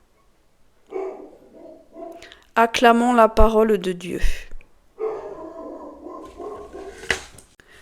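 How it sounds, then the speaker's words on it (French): A dog barks in the background indoors while a man reads a Gospel passage aloud, a few short barks heard under and between his speech. "le chien qui aboie en fond"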